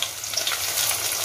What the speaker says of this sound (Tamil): பெரிய வெங்காயம் இஞ்சி பூண்டு எல்லாத்தையும் போட்டு வதக்கின்றேன்